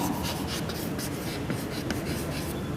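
Chalk or marker scratching steadily across a board during a physics lecture on Coulomb's law in vector form, a continuous close scraping texture with no talk over it.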